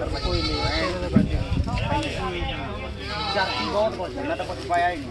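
A goat bleats several times nearby during a sale on a goat farm, its wavering cries mixing with people talking over it.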